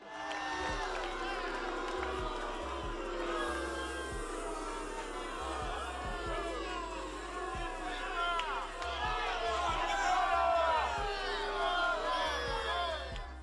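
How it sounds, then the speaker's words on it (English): A large crowd booing at length, a sustained roar of jeering voices with whoops and shouts rising and falling, loudest near the end, with steady thumping underneath. "This booing is a whole minute long."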